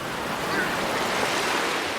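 Ocean waves wash steadily onto a beach in a continuous broad rush of surf, with some wind noise over it and no clear breaks.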